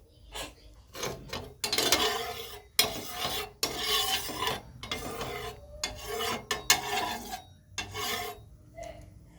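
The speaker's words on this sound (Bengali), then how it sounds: "তা আমি এতে একটু অল্প করে সাদা তেল চারিদিকে লাগিয়ে নেব।" Soft scraping and rubbing as white oil is spread around a pan on a lit gas stove for veg golaruti, in repeated uneven strokes with brief pauses, close and fairly quiet.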